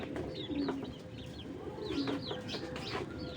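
Pankhi fancy pigeons coo repeatedly at close range, soft throaty calls rising over a steady background murmur, with brief higher chirps mixed in.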